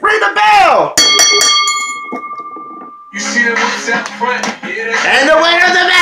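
A wrestling ring bell clangs after a pinfall: bright, ringing struck-metal tones with long sustained overtones cutting through a loud arena crowd and a commentator's excited talk before and after.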